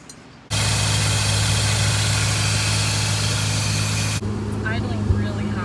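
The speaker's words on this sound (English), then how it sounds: "Idling really high." A Mazda RX7 with a rotary engine idles high and steady, close by and loud, a constant droning hum that shifts slightly in tone near the end with faint mechanical clicks.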